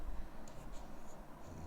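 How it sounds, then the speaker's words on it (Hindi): Brief scratchy strokes of writing on a board during a Hindi-language calculus lesson on differentiation, faint and short against a low room hum. "सो इधर लिखते हम"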